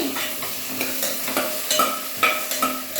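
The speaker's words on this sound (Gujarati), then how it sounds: "આ તમે ઘીમાં શેકશું તો ગાજરનો બહુ લાલ બી મસ્ત થશે" Grated carrots roasting in ghee in a pan: a light sizzle under repeated stirring clinks and scrapes of a spoon, spaced every half second or so, close and clear.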